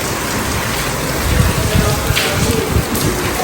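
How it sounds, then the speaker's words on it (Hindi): Heavy stormy rain pours down in a loud, constant hiss close by, with thicker pattering of drops on surfaces building slightly partway through. "बारिश तो खूब तेज़दार हो रही है"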